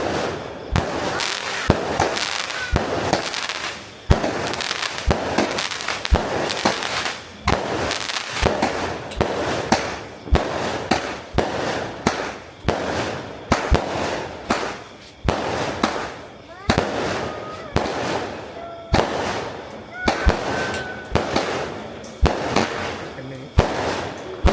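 Fireworks and firecrackers pop and crack in rapid, irregular bursts during a Raya celebration, loud and nearby for a long stretch, with family members talking in between.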